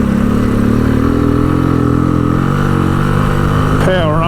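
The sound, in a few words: motorcycle powering up gravel hills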